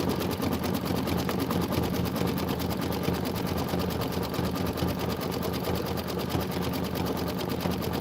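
A Kimberbell embroidery machine stitches a design, a fast, steady mechanical rattle of needle strokes running unbroken and loud, close up and without talking.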